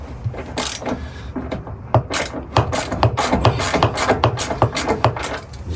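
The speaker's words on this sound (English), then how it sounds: "Okay, so we're just going to take out these bolts here." Ratchet clicking in quick bursts while working M8 bolts loose from the bulkhead of a Ford Transit Custom van, close and fairly loud with short pauses.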